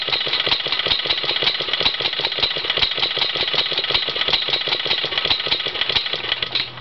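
Small Cub Cadet engine running after a rebuild, a steady fast chugging drone with even firing pulses that continues throughout and fades away at the very end as the engine shuts off.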